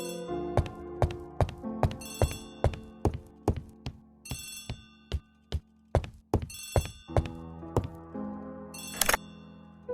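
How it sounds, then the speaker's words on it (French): An old-fashioned telephone bell rings in repeated bursts of sharp metallic trilling, loud and close, with heavy thuds between the rings and no talking over it. "Poirot, le téléphone."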